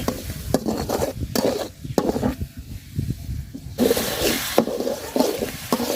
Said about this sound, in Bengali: মশলাটা খুব সুন্দর করে ভাজা নিচ্ছি তেলের সাথে।